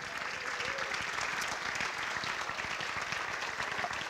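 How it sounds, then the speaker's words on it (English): Soft, continuous clapping from an awards ceremony audience honoring a student of the year, even and unbroken at a distance, with no talk over it. "Let's have a round of applause for Desiree."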